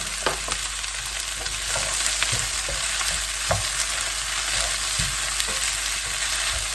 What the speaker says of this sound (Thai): เส้นสดนี้จะผัดไม่นานเนาะ